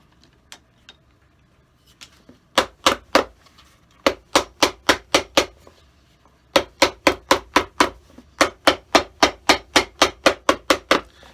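Hammer blows drive nails into the heel base of a Tom Ford shoe during a leather restoration, landing as sharp, evenly spaced strikes in several quick bursts of about five to nine hits each, close and loud with no talk.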